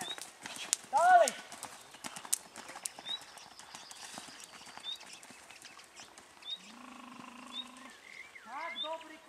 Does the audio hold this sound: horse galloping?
yes